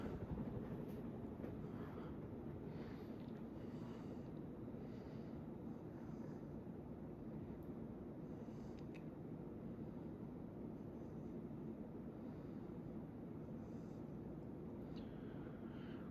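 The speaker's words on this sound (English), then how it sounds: "On high speed here, we're cruising at around 185 RPM" A Casablanca 20th Century 52-inch ceiling fan with 14-degree blade pitch runs on high speed at about 185 RPM, a faint, steady low whooshing hum of moving air, unbroken and with no talk.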